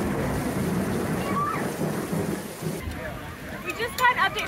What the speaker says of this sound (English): It is raining harder and lightning more